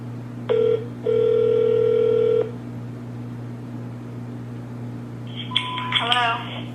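Telephone line during a call transfer to a TV news desk: a short tone, then a longer steady electronic ringing tone lasting over a second, followed by a quiet pause and a few brief chirpy electronic beeps near the end.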